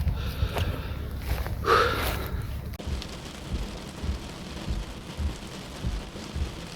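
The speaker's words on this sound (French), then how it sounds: "comme d'habitude sur le trail des Cagous, on a de la pluie" Steady light rain patters on surfaces at the Trail des Cagous running race, a soft continuous hiss close by with a brief louder rustle early on and no talk over it.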